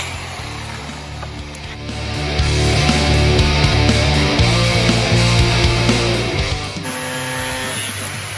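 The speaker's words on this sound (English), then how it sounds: "we needed to cut a piece of wood and we didn't have a saw. Jason's the welder, so he's got a grinding wheel." An angle grinder's abrasive wheel, a welder's tool, cuts through a piece of wood indoors in a makeshift kitchen makeover, a loud continuous whine that rises after a couple of seconds, holds steady, then drops away near the end.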